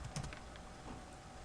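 Quiet typing on a computer keyboard while setting up a Gmail account: a few soft, scattered key clicks over a low background hum, faint and brief.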